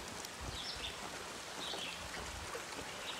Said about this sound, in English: it sure sounds like there's flowing water up here